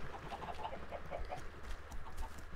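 Small blocky chickens in Minecraft clucking softly in a short run of repeated, fairly faint calls over a low ambient background, with no one talking.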